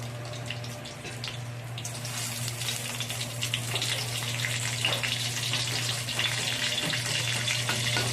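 Panch phoron whole spices and a dried red chilli sizzle in hot oil, a steady crackling fry that swells after a couple of seconds and keeps hissing alongside a constant low hum.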